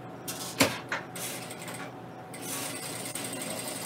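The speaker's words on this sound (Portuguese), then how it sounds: "Costuro até o final. Costurei." A small black domestic sewing machine stitching patchwork fabric: close mechanical clunks and a sharp knock first, then a steady, even whirring run of stitching, with no voices.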